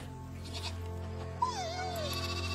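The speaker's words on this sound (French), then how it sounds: "Des agneaux de lait." Milk lambs give a single wavering bleat partway through, heard fairly close over a steady low background hum.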